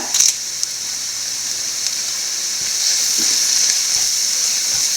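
Egg roast masala frying in a pan after garam masala and curry leaves go in, a steady bright sizzle with faint stirring clicks, close and even, no voices.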